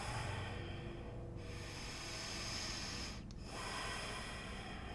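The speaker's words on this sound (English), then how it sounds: "Breathing as you twist." Soft, steady breathing during a yoga twist, with slow airy inhales and exhales close to the mic at low volume and no talking.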